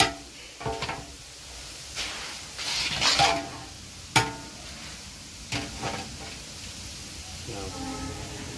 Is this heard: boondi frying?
yes